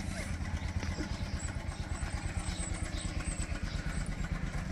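A motorcycle engine runs steadily with a low, throbbing rumble and light clatter, continuous throughout, fairly close and moderately loud.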